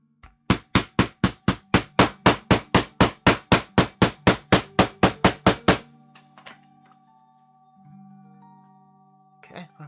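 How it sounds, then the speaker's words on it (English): A rawhide mallet strikes leather during boot making, giving about nineteen sharp, evenly spaced blows close up in a fast rhythm, then stopping abruptly, followed by quiet rustling and a faint hum. "Okay, rawhide mallet."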